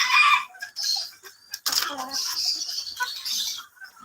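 Black Sultan chickens on a farm cluck and chatter in short, close bursts, mixed with a person talking nearby.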